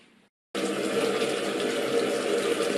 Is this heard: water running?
yes